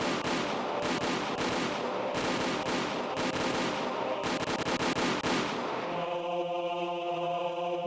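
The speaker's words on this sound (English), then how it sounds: "The sound of the gunshots echoed in the silence." Gunshots and machine-gun fire from the Higurashi When They Cry visual novel game ring out as loud, rapid repeated bursts, then give way to a sustained musical tone.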